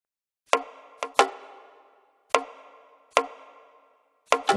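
Sparse percussive hits from the hook of a song, sharp clicky knocks with short decaying tails in an irregular pattern, some in quick pairs, played alone without talk.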